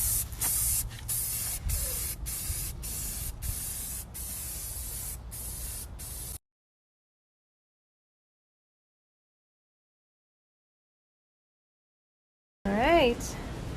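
Matte black Behr spray paint hisses onto wood in a string of short bursts and longer sprays, close and loud, then cuts to silence before a brief clip of voices.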